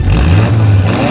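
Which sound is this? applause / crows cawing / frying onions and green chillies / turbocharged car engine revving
turbocharged car engine revving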